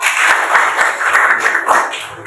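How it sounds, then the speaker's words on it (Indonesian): Applause from a classroom of students, a dense burst of clapping held at steady loudness for a couple of seconds. "Beri tepuk tangan dong."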